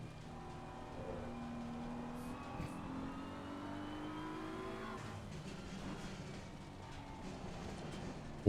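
A BMW racing on an Assetto Corsa track revs steadily, its engine tone sweeping up through the gears and then dropping off into rougher, lower running, heard alone without talk.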